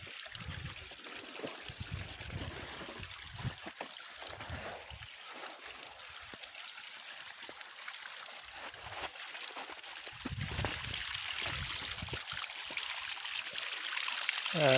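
Mountain spring water in the Kashmir hills trickling and splashing steadily close by, growing a little louder near the end, with a voice talking over it in places.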